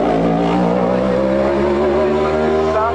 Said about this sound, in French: Le bruit, quel bruit, quel concert de 5 minutes avec la Nova Proto